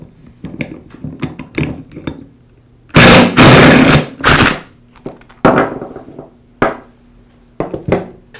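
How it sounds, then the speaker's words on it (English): Impact wrench with a 1 1/8-inch socket removing the chuck from a Porter Cable 690 router armature, loud, close, rattling bursts in a cluster midway, set among quieter knocks and handling clicks. "I'll use an impact wrench with an 1 1/8" socket to remove the chuck"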